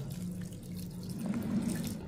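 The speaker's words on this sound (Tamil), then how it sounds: "ஒரு கிளாஸ் அளவுக்கு தண்ணி ஊற்றிக்கிறோம்" A glass of water is poured over freshly grated ingredients for a homemade drink, a close, steady splashing gush lasting about two seconds with no voices.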